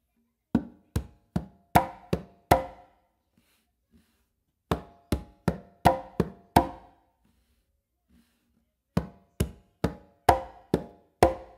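Hand drumming on congas in a clave independence pattern, groups of quick sharp strikes and slaps repeated in three bursts separated by short silences, close-miked and unaccompanied.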